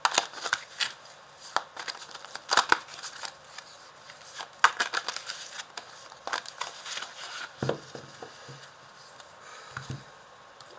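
A deck of tarot cards is cut in two and handled, giving soft papery riffles, slides and taps in scattered bursts, close and fairly quiet, with a couple of low knocks near the end.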